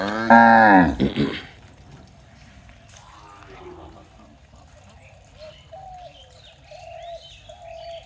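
A loud, drawn-out moo from a Sahiwal cow opens, followed by quieter ambient sound with faint bird chirps in the background.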